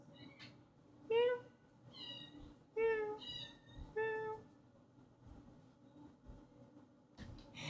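A kitten meows in short, high calls, about four clear meows in close succession near the microphone, with quieter stretches and faint room noise between them.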